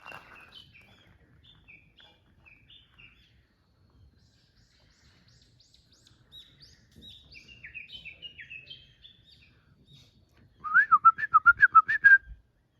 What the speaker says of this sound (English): I love that bird.